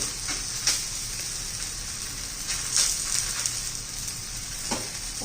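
Poha thalipeeth frying in oil on a pan, a steady bright sizzle throughout with a few louder crackling pops, close and continuous with no talking.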